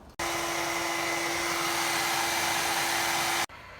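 Vacuum hose sucking air through the drain line of a Mitsubishi Mr Slim mini split unit, a steady loud rushing whoosh with a faint hum that starts abruptly, holds for about three seconds, then cuts off.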